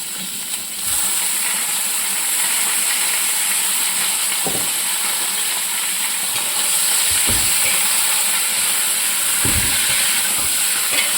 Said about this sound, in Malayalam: സവാള ഒന്ന് മൂത്തിട്ടുണ്ട് ഇനി നമുക്കിതിലേക്ക് ചിക്കൻ ഇടണം